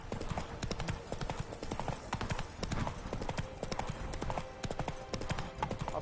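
Hooves clip-clop rapidly as a horse gallops in The Witcher 3, a steady fast rhythm of hoofbeats at moderate volume with no speech over it.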